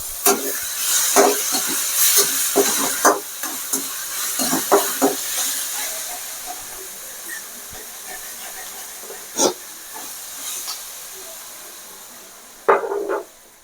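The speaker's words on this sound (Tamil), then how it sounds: "வெங்காய தக்காளி நல்லா வதங்கிட்டு இருக்கு" Onions and tomatoes sautéing in a pan with mint leaves, giving a steady soft sizzle and hiss broken by occasional clinks and stirring knocks.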